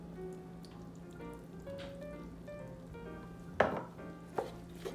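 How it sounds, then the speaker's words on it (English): A wooden rice paddle mixing sushi vinegar into cooked sushi rice in a home kitchen, giving quiet, soft wet stirring and scraping with a couple of sharper knocks near the end. "when you are adding rice vinegar, please use your rice paddle like this"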